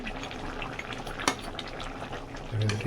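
Dried fish and radish curry stirred in a pan, a steady soft simmer and scrape with one sharp utensil clink near the middle, close and fairly quiet, no talking.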